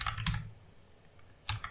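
A computer keyboard is typed on in a quiet room, a few close clusters of sharp key clicks separated by short pauses, with no talking.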